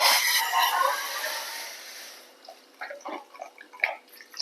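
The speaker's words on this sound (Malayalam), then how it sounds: "നമുക്കിതിലേക്ക് ചൂടുവെള്ളം ഒഴിച്ചു കൊടുക്കാം" Hot water pours into a pan of browned onion curry masala paste, a steady liquid rush that fades after about two seconds into soft bubbling and scattered splashes.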